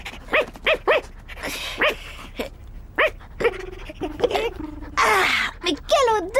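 A cartoon dog barks in short, repeated yaps, then whimpers and whines, close and clear, mixed with animated voices talking over and between the sounds.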